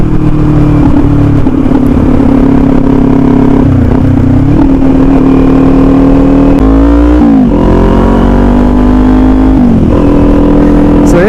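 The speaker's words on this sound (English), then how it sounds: "That's a little pipsqueak rev." A 2021 Kawasaki Z400 motorcycle heard close and loud while riding, its engine revving in repeated rising and falling sweeps over a constant rumble, with a sharp blip of throttle partway through.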